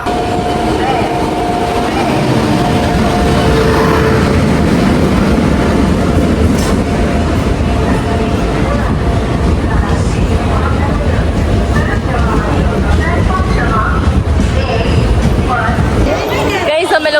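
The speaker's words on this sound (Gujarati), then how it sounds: "ટ્રેન આવે છે ને તમને બતાવું" A passenger train pulls into a railway station in Gujarat, its wheels and carriages rumbling loudly and continuously with rhythmic clatter, while people chatter around the platform and several brief horn-like tones cut through.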